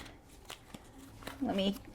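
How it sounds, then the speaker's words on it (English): Tarot cards are shuffled by hand during a card reading, giving a short, close riffling burst near the end after a few soft taps and handling sounds, in a quiet indoor setting. "It's hard for me to shuffle that way."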